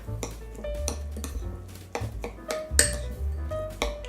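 A spoon mixes salt and olive oil with other ingredients in a bowl, giving close, irregular clinks and scrapes against the dish, with a few louder knocks and no talking.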